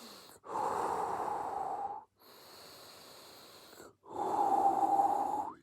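Slow, deep breaths during Tai Chi exercises: three long, close, airy inhales and exhales, each lasting a second or two, separated by short pauses, with no speech.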